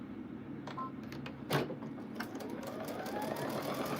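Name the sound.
sewing machine sewing quilt strips at low speed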